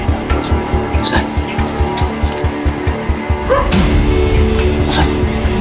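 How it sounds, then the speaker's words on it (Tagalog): A dog barks in a steady run of sharp, repeated yips outdoors, close and fairly loud, with engine or vehicle noise rumbling underneath and louder toward the end. "May aso dyan, tol."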